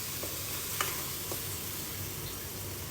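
Dried fish (shutki) sizzling in a hot pan, a steady crackling fry with a few sharper spits and pops, close and even throughout, with no talking.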